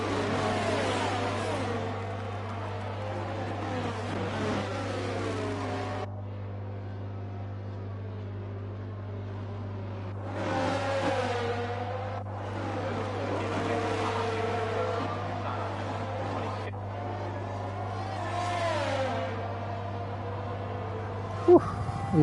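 An F1 racing car engine in the video game F1 23, heard while overtaking Perez on lap 17, rising and falling through high-revving gear changes over a constant low drone, with a quieter gap between bursts.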